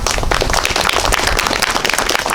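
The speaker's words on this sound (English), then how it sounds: "Please join me in giving Vicki a warm round of applause." A warm round of audience applause welcoming a presenter at a historical marker talk, dense and continuous clapping from many hands filling the room at steady loudness throughout.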